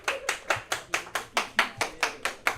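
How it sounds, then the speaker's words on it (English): A single pair of hands in a classroom claps a steady, evenly spaced rhythm of about eleven sharp claps, close and moderately loud, with no talk over it. "if we could have a round of applause for Jenna Doyley"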